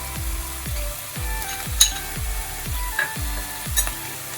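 Chicken korma mixture with almond paste and milk being stirred in a pan, a steady low sizzle of frying broken by repeated scraping strokes of the spoon at a regular rhythm, close and moderately loud.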